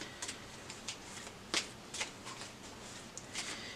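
Tarot cards being shuffled by hand, a soft papery riffle with quick light flicks and one sharper slap partway through, close and quiet with no talking.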